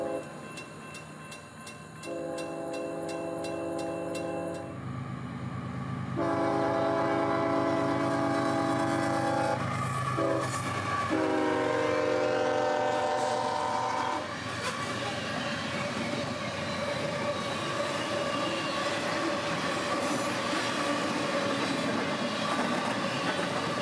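Freight train IO44 rolls past on track 1 in Florida, loud and close, with a sustained horn blast, steady rumbling wheels and rail clatter. The sound holds continuous and strong throughout, with no talking.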